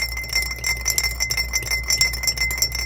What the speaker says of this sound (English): And then I'm going to add my lemon juice right to it. And just stir everything together.